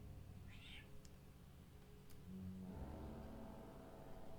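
A cat's short meow rises once near the start over a steady low game-music bed, alone and fairly faint, with no talking around it.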